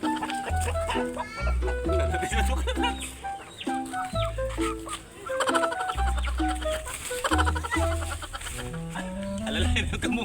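Chickens cluck repeatedly in short, choppy calls at close range, mixed with voices and other steady tones.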